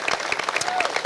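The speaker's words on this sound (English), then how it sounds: "Clap it up for him one more time" A crowd claps briefly at an outdoor statue unveiling ceremony, the individual hand claps audible in a loose, quick rhythm, with some cheering voices mixed in.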